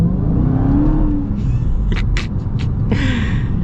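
A Dodge Charger Hellcat Widebody pulls hard on a road, its engine a loud, steady low roar with a rising tone, and a few brief higher whines and clicks over the top.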